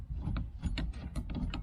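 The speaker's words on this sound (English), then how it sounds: "Okay, so I wiggled that lock plate off." Lock plate wiggled off a 1970 Cutlass steering column, a quick run of small metallic clicks and ratcheting ticks, close and fairly quiet, with no talking.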